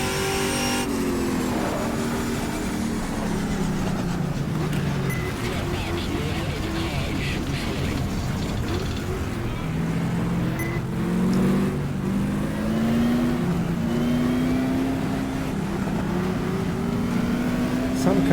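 Racing cars on the grid at Mount Panorama in a 1987 WTCC race in the GTR2 game rev their engines for a launch start, a steady loud engine drone with rising pitch sweeps, under continuous talk.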